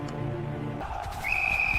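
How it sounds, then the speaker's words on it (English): A World War I trench whistle sounds the signal to attack, rising out of a low rumbling battlefield backdrop into one sustained, piercing steady tone. "The whistle blows."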